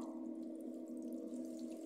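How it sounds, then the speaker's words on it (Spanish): Warm water runs steadily from a sink tap while makeup brushes are being washed, a constant close hiss with no pauses and no talking. "esta canilla mía tarda en salir agua caliente"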